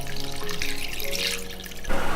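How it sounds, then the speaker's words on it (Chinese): Clear water pours into a pot of duck pieces seasoned with soy sauce, sour plum sauce, rock sugar, star anise and bay leaves. A steady, close gushing pour with a rising filling tone stops abruptly near the end. "淋入清水没过大半鸭肉"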